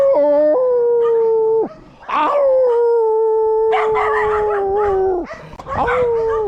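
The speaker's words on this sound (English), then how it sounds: "Fucking dogs everywhere" Several dogs howl loudly at close range in a yard, long wavering tones overlapping and sliding in pitch, with a few yips and barks mixed in and a man briefly exclaiming.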